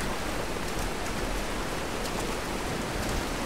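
Heavy rain pours steadily in a Tomb Raider game scene, a dense, even hiss of downpour filling the whole stretch with no pauses and no one speaking.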